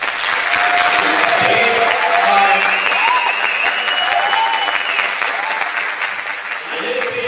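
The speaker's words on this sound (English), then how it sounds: "I need you to give your teachers and your staff members that are here a round of applause" Dense applause fills an award ceremony hall for teachers and staff, steady and loud throughout, with voices and a few cheers rising over it.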